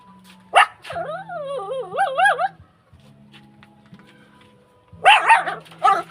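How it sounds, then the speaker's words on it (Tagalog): A dog barks sharply a few times, with whining, yelping howls between the barks; close by, with short quiet gaps. "para aso lang dumaan doon"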